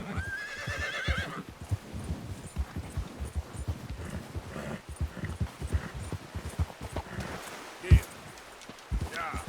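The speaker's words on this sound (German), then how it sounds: "Gutes Pferd." A horse in the Red Dead Redemption 2 video game whinnies near the start, then hooves clip-clop steadily on the ground with a short louder bump near the end, heard at moderate level without speech.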